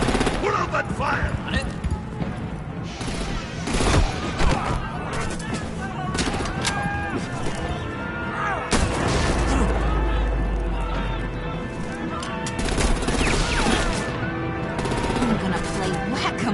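Gunfire rattles through a shootout in the Telltale Batman video game, repeated bursts and loud cracks layered under music and shouting voices, with heavy impacts standing out near the middle.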